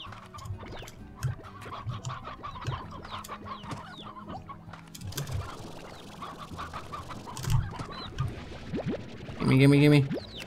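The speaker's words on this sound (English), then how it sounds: "There's lots of chickens today." Chickens in the video game Slime Rancher cluck and scratch in a busy flock, with a louder squawk near the end, while a person talks over them.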